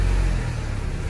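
A 2005 Chevrolet Cavalier engine running just after starting, a close, low rumbling idle with a slight rev, heard alone for a brief moment.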